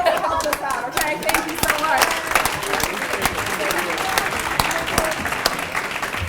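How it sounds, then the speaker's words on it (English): A crowd applauds volunteer dancers at a presentation, loud continuous clapping with sharp individual claps standing out across the whole stretch, a few voices mixed in. "let's give a big round of applause for our reluctant dancers"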